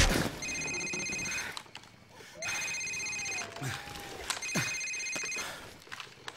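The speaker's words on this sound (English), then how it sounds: "Sir, it's his cell phone." A cell phone rings in a Call of Duty Modern Warfare safehouse scene, giving three repeated electronic bursts spaced about two seconds apart, with heavy breathing and movement noise between them.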